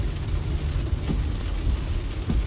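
Thunder from a lightning strike rumbles low and loud over steady hissing rain, a continuous close roar that lasts only a few seconds.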